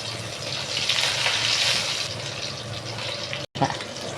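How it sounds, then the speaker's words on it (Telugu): Mustard seeds sizzle and crackle in hot oil as a tempering for tamarind rice, with cashews, peanuts and curry leaves in the pan. A steady, close, dense hiss runs throughout, broken by one brief dropout near the end. "ఇగో తిరమాత కాగుతుంది."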